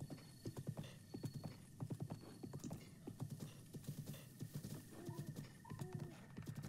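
Horse hooves clip-clop in a steady trotting rhythm in The Legend of Zelda: Breath of the Wild, quiet and even, with a couple of short whinnies near the end.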